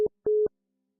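Telephone tone after an accidental hang-up: two short, loud, clean beeps at a single steady pitch, one brief and one longer, then silence.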